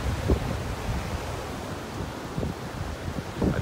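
Wind buffets the microphone over a steady wash of surf on a beach in North Naples, Florida, with a few low gusty thumps rising and falling through the short stretch.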